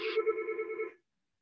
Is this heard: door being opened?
no